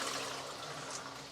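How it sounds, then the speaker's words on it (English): Water gushes steadily out of an LG front-load washing machine salvaged from a dump, a continuous close rushing pour with no talk over it. "the water actually was released, and there's no more water up there. It just poured through."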